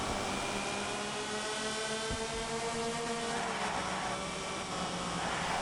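Racing karts, one with a Powerfinger exhaust and one with a Firebird exhaust, run on track with a steady, fairly faint, buzzing engine drone and a broad wash of noise, without talk.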